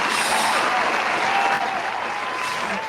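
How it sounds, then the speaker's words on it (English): A canned applause sound effect plays, a steady wash of crowd clapping at even loudness that eases slightly toward the end, with no voices over it. "Hey, another applause sound effect, please."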